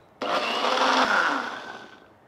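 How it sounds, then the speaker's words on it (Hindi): Mixer grinder running briefly to blend yogurt into a chutney for chicken cutlets: a sudden loud whirring burst that holds about a second, then winds down and fades, with no talk. "एक बार फिर से ग्राइंड कर लेंगे ताकि दही भी अच्छी तरह से ब्लेंड हो जाए"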